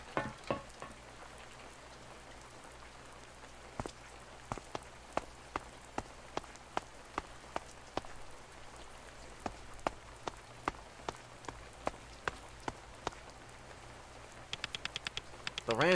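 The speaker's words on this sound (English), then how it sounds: "It's starting to rain." Light rain in the video game A Space for the Unbound patters steadily, with scattered sharp drips and taps landing at an irregular pace over a soft, hissing background.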